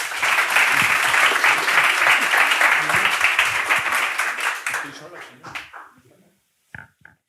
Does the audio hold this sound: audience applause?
yes